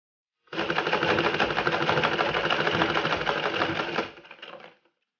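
A sewing machine stitches a seam on folded fabric, a steady rapid mechanical whir running continuously for about four seconds before slowing and stopping, close and loud with no talk.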